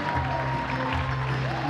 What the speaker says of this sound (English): one more round of applause up here